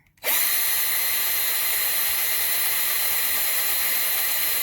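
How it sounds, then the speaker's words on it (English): A power drill bites into a wooden tray in one steady, loud, high-pitched whir that starts abruptly and holds without a break. "So I'm marking them, and I'm starting to drill them here."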